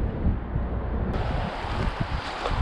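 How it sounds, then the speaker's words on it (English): Light wind buffets a microphone at the ocean at dead low tide with no waves, a steady broadband rush with faint water sounds, no talking. "All right, it's dead low tide here at the ocean. Literally no waves. Light northwest wind."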